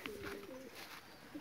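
Pigeon cooing softly in a loft, a low drawn-out coo rising and falling over faint background noise, with no one talking.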